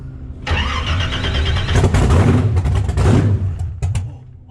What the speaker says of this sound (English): The fuel is off for the moment, hitting the starter.